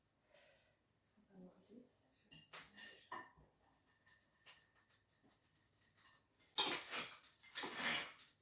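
Cutlery scraping and clinking on a plate while food is cut into pieces, a few soft sharp clatters and scrapes spaced out, close but fairly quiet, with faint breathing and movement between them.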